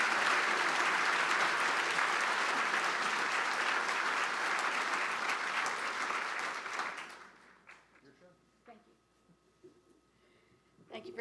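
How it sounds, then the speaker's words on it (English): Audience applause at a chamber of commerce annual awards dinner, loud dense clapping lasting about seven seconds before dying away into faint room murmur. "Robert deserves such applause"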